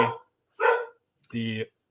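A dog barks in a few separate loud bursts close by, with short gaps between them, in an indoor setting.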